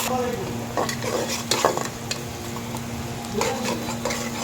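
Cut vegetables sizzle in hot oil in a cooking pot while being stirred, with scraping clicks of a utensil against the pot over a steady frying hiss.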